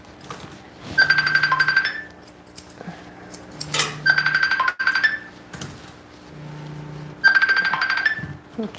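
A phone repeatedly chimes with a ringtone or notification, three bursts of a bright electronic tone pattern a few seconds apart, moderately loud over quiet rustling and clicking during a dog grooming session.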